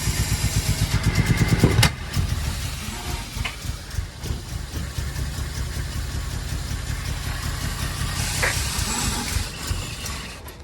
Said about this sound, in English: So it's running like a bag of spanners, and I think the reason is the plugs are suttered up, so Mark's going to pull the plugs out